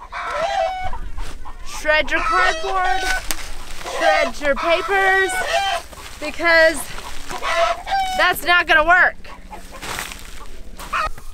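Backyard hens cluck and squawk loudly in a noisy, overlapping chorus of harsh calls, with a person talking over them throughout.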